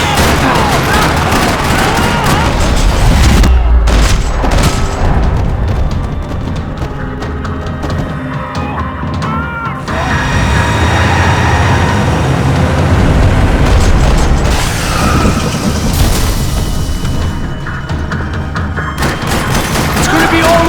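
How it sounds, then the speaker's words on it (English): Gunfire rattles through a parking lot in the Max Payne 3 video game, loud dense bursts of shots and booming impacts repeating for twenty seconds with brief lulls, mixed with game sound and occasional voices. "Another parking lot rattling with gunfire."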